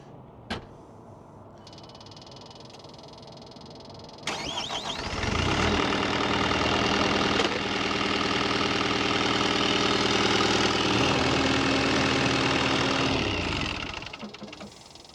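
A farm machine engine for potato and beet equipment cranks and fires up, then runs at a loud steady rumble for several seconds before cutting off, with a few clanks before the start.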